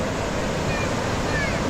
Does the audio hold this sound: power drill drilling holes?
no